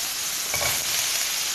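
Mushrooms and onions sautéing in a pan give a steady broadband sizzle, with a brief stirring scrape near the middle and no talking.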